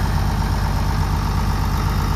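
A farm tractor's diesel engine idles close by, a steady low rumble with a constant, even drone and no talking over it.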